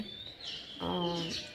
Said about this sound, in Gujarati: અહીંયા જોઈ શકો છો કે સરસ મજાની ચકલીઓ બોલી રહી છે આજે